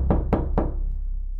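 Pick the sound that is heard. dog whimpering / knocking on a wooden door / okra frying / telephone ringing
knocking on a wooden door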